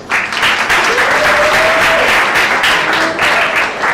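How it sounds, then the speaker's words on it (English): An audience at a junior college orientation programme claps in a dense, steady round of applause that stays loud throughout, with a brief voice audible partway through. "I can have a round of applause."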